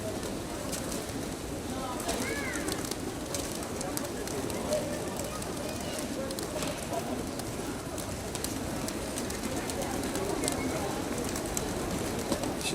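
Pigeons coo softly in a repeating rolling rhythm against a faint outdoor background, with distant voices and light crackles mixed in.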